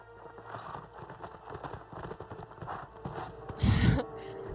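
Horse hooves clopping steadily in the video game Ghost of Tsushima, ending in a short loud snort or whinny near the close.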